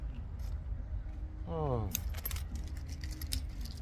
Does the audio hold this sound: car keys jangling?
yes